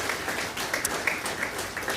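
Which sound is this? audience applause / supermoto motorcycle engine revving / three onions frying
audience applause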